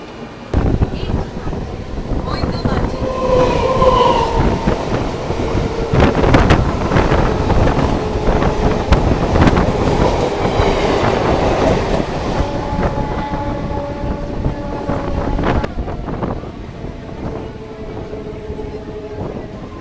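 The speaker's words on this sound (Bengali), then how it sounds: "আজকে আমি এই হাওড়া থেকে ব্যান্ডেল ট্রেন জার্নি করছি" A Howrah to Bandel local train in Bengal rolls along with a steady, loud rumble, wind buffeting the microphone and rhythmic clickety-clack from the wheels, fading slightly toward the end.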